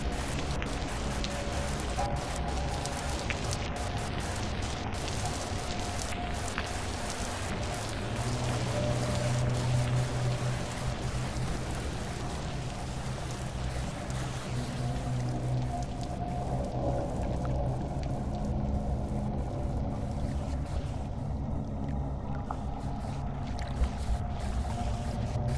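Steady rain in the video game Vintage Story: a continuous, even hiss of falling rain with a low rumbling bed underneath, heard at moderate loudness throughout with no talking.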